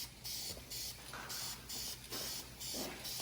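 Spray painting parts of a Peterbilt 379 truck: a series of about six hissing bursts from the spray gun, each roughly a third of a second, separated by short pauses, close and steady.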